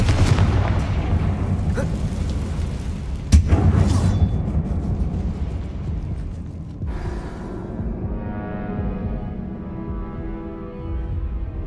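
Confringo spell explosions in Hogwarts Legacy inside a closed mine, a sharp blast and rumbling burst early on, then a fading crackle and debris settling, with a later, softer hit.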